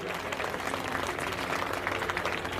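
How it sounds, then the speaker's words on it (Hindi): A crowd applauding steadily at a political gathering in Sagar, India, dense clapping filling the space with no pauses. "अरे तालियों में कंजूसी क्या कर रहा, बजा दो ताली।"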